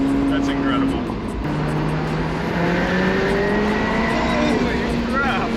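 A McLaren 720S turbocharged supercar accelerating hard, its engine note rising steadily and loud from inside the car, with excited voices talking over it.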